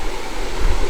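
Creek water rushing at a hiking trail crossing, a continuous broadband wash of flowing water with low rumble, steady and fairly close, no voices.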